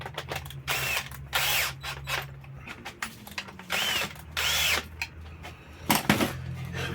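A cordless screwdriver ratchets and whirs in short repeated bursts while driving the three bolts back into the starter of a Makita EA3202S chainsaw, close and loud, no voices.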